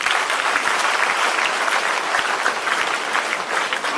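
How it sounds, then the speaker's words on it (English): Workshop participants at a women's empowerment event get a big round of applause, a loud, dense, continuous burst of clapping from the whole audience. "So they all need a big clap."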